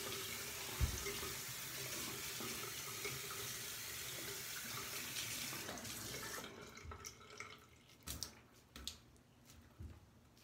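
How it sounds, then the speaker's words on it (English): Tap water runs steadily into a sink to wet a synthetic shaving brush, then cuts off, leaving a few faint drips and handling sounds. "let me wet this brush so I don't pre-soak synthetic"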